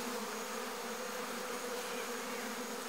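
A dense, steady buzz of many honeybees swarming close around the hive entrance as they return inside, continuous and fairly loud with no voices.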